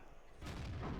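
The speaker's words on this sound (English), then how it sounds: "take another shot at the KV5" Tiger II tank cannon firing in World of Tanks: a single loud, close boom about midway, its rumbling roar sustained to the end.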